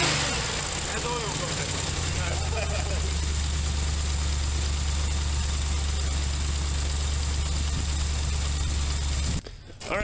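Car engine idling after a valve tune and Q-Jet carburettor rebuild, a close, steady low rumble running evenly for about nine seconds before cutting out, with faint talk over it.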